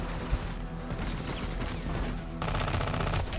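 Gunfire in Hitman Absolution, heard as a dense, busy clatter of game sounds that turns into a faster, rattling burst near the end, with no talking.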